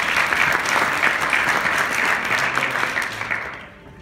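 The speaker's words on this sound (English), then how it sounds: "big round of applause, please, again, counselor" Sustained round of audience applause at a student BIM competition event, dense and steady clapping that tapers off toward the end.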